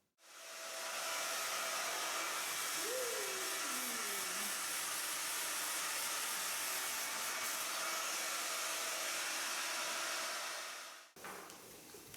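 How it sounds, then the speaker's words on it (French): A hair dryer blows steadily on hair for about ten seconds, a loud, close, even whoosh with a brief pitch shift as it moves, then clicks off. "il faut se laver les cheveux, les sécher et les brosser"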